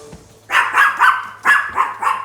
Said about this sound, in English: that's Ethel trying to bark her way onto starring role in the podcast